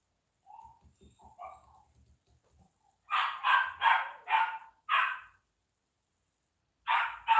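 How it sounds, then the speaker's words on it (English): Several dogs bark at a window at kids outside, first with soft whines and low grumbles, then a run of five loud sharp barks and another pair after a pause. "the dogs are just like at the window going ape shit because they can see them outside but can't get to them."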